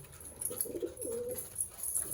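Pigeons eating chicken feed coo softly nearby in a couple of low, throaty rolls, over a steady background hum and faint high-pitched hiss.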